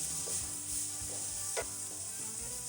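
Meat browns in a hot pan with a dense, continuous sizzle. A few soft stirring scrapes come through close by, and nobody talks.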